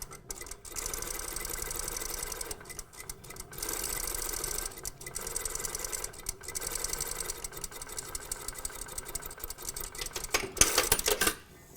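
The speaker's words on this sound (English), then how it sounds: "you're going to top stitch this, going all the way around" A sewing machine runs close up, top stitching a double rolled hem at a quarter-inch seam, stitching in steady rapid bursts with brief pauses between runs and a final thread snip.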